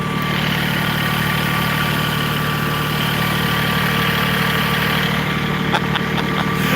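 A tractor engine runs steadily throughout, a loud, constant low rumble and vibration close by, with a few faint clicks and rattles toward the end and no talking.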